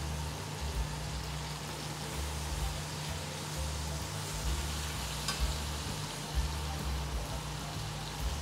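Chicken pieces for bistek fry in a pan with a steady, dense sizzle like light rain, loud and close throughout, with no talking.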